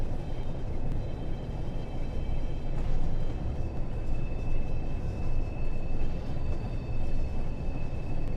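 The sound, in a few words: train arriving at Crewe station in a train simulator video game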